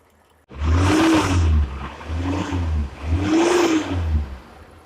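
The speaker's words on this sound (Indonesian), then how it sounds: "Cukup nyalakan mesin dan isi terus sambil sesekali digas ya mobilnya" A Suzuki Zebra Espass car engine revs up repeatedly, three rising roars with short dips between, close and loud over a steady idle, during radiator flushing.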